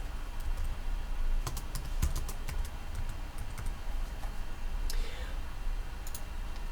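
Steady typing on a computer keyboard into a PowerPoint text box, with irregular clicking keystrokes throughout over a constant background hum, close and moderately loud.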